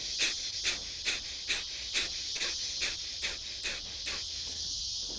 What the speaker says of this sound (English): So we're pumping our stomach for a nice strong exhale through the nose.